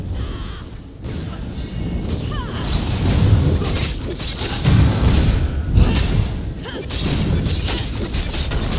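A protective shield shatters in The Elder Scrolls Online: Morrowind, producing a dense, loud stretch of crashing, glassy breakage and rumbling bursts that keeps going with little pause.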